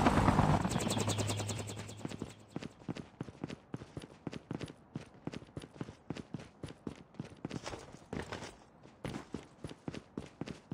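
A helicopter in the Call of Duty Mobile video game beats with fast, steady rotor thuds that fade in after a louder opening swell and keep a regular chopping rhythm throughout.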